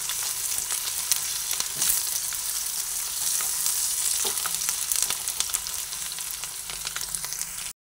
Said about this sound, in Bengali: পেঁয়াজটা অল্প ভাজা হয়ে এসেছে